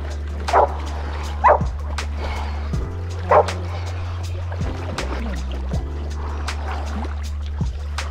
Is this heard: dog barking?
yes